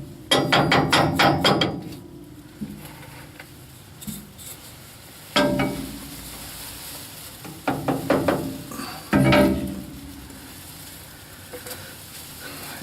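Sharp metallic hammer strikes come in quick bursts of several blows, separated by pauses, close by and ringing against metal, as a part is hammered into place on a 1964 Impala shock tower crossmember.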